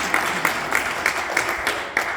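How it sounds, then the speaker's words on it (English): Audience applause for husbands at an event honoring a 100-year-old veteran: steady, fairly even clapping from a crowd with a few louder claps standing out at intervals, with no talk. "All right, husbands, y'all can clap on that."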